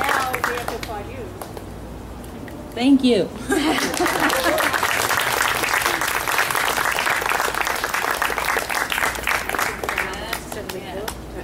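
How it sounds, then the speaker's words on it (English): An outdoor bookstore crowd claps steadily after an author conversation, a broad ongoing patter of many hands, with a brief spoken thanks and a light chuckle rising over it near the start. "And now we have to applaud you."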